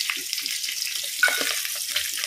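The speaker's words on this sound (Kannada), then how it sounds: "ಈಗ ಎಣ್ಣೆಗೆ ಸ್ವಲ್ಪ ಕರಿಬೇವು, ಹಾಗೇನೆ 1 ತುಂಡು ಶುಂಠಿ, ಮತ್ತೊಂದು ಸಣ್ಣದೊಂದು 7-8 ಹತ್ತೆಸಳು ಬೆಳ್ಳುಳ್ಳಿ" Curry leaves, ginger and garlic sizzle and crackle steadily in hot oil, a loud close continuous frying hiss with small pops throughout.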